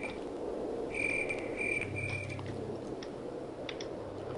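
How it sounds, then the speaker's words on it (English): Crickets chirp in a Minecraft Tekkit game, faint repeated trills over a soft, steady ambient background, with no voices. "I hear nothing but the sound of the crickets and the sound of the frogs croaking"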